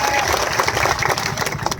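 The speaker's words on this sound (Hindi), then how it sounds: "उनके लिए एक बार जोरदार तालियां बजा दीजिए।" A crowd at a village political rally claps loudly and continuously, a thick clatter of many hands that stays close and steady before easing slightly at the end, with a voice faintly underneath.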